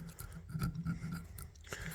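A knife blade coated with mineral oil is scraped in short, quiet rasping strokes at close range, with no talking.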